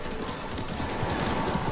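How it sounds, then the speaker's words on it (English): Horse hooves clip-clop in Ghost of Tsushima, a steady trotting rhythm of close, repeated hoof strikes over a dense background of wind and ambient game sound. "We'll leave the horses to avoid being seen."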